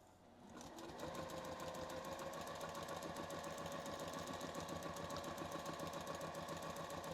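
A sewing machine free-motion stitching pebble quilting circles starts up and runs in a steady, fast mechanical whir with a rhythmic needle chatter, close and even throughout.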